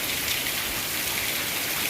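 Steady, dense monsoon rain pours down continuously in a Kutch village, a broad hissing patter on surfaces with no voices present.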